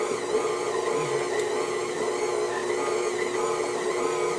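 A KitchenAid stand mixer runs on a very slow speed, its dough hook kneading pizza dough, producing a steady, even motor whir that continues unchanged throughout with no talk.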